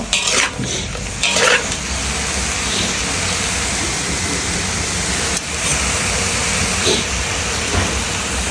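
Vegetables stir-fried in a large pan over high gas heat, a continuous loud roaring hiss from the flame with occasional clanks and scrapes of the utensil against the metal.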